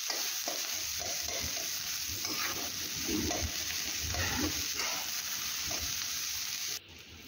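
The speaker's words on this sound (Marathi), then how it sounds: "आता आपल्याला हा कांदा गोल्डन ब्राउन कलरचा होईपर्यंत या तेलामध्ये फ्राय करून घ्यायचा आहे" Finely chopped onion frying in oil in a pan for a dhaba-style shev bhaji, a steady loud sizzle with occasional stirring scrapes throughout, no talking.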